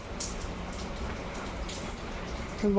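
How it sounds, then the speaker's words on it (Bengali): Heavy rain pouring outside, a dense steady hiss of drops close by, with a short tonal sound breaking in at the end. "তো দেখো বৃষ্টি এখনও পড়ছে, থামে নেই"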